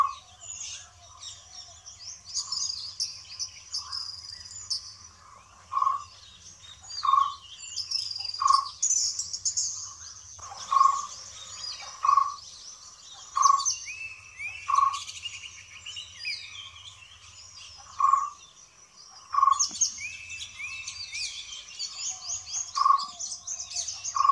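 Forest birds in Tholpetty Wildlife Sanctuary, Wayanad, Kerala, call steadily: a repeated clear whistled note recurs every second or two over a busy chorus of higher chirps and trills, with a faint low insect hum beneath and no talk.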